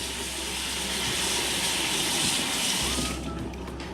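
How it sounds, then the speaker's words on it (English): Steady running water from a kitchen tap as hands are washed during pineapple salsa prep, a continuous close hiss with no talk. "While he's washing his hands"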